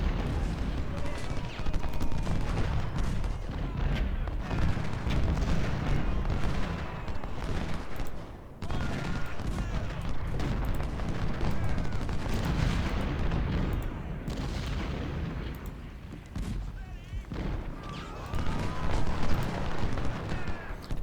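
Cannon and musket volleys from an Ultimate General Civil War battle rumble and crackle without pause, booms and scattered rifle fire layered into a dense, steady din while someone talks over it.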